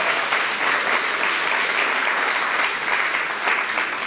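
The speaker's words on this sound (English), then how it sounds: "So you give them a round of applause." An audience at an evening keynote event applauds the production team, a steady dense clapping that fills the room and holds at an even level throughout.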